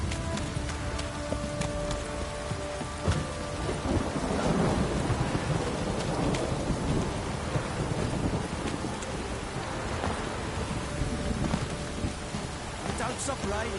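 Steady rain pours with rumbling thunder rolling in the background in The Witcher 3 video game, a sustained stormy wash without clear speech.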